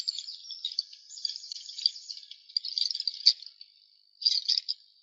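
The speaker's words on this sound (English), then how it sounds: "listening for the sounds of the birds and their beautiful songs" Forest birds sing during an indoor sound meditation session at Monona Terrace, thin high chirps and twittering trills coming in uneven bursts over near silence, with a denser flurry toward the end.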